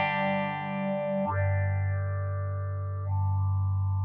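A vintage Moogerfooger 12-stage phaser processes a sustained, distorted tone, its sweep swelling and shifting twice across the few seconds, loud and steady with no talking.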